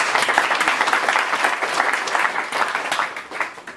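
Party militants at a political rally welcome Dr Ousmane Kaba home with dense, steady crowd applause, continuous and fairly loud throughout with no clear talk over it.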